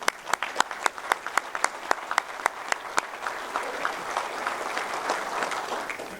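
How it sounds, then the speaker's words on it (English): A round of applause at a law enforcement appreciation event, a small group clapping with sharp distinct claps that start strong and blur into denser, softer clapping as it fades. "I think we ought to give Mike a round of applause."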